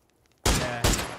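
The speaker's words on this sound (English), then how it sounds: "I'm gonna start shooting this guy in like right now." Two loud, close gunshot blasts from PUBG gameplay, the first landing after a short quiet lead-in and the second following about half a second later, each ringing out broadly.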